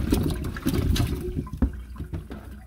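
Pieces of sweet potato candy set with lime are rinsed under running water in a kitchen, giving a steady close splashing and trickling with a few sharp knocks.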